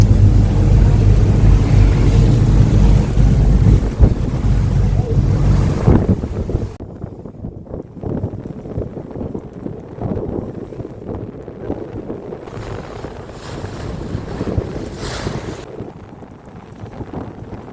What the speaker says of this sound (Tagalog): Medyo maalot at lumakas yung hangin.